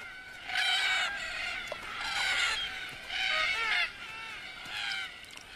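Red-tailed black cockatoos arrive at a waterhole at dusk, giving four rolling, grating flock calls in bursts over a steady outdoor background, moderately distant.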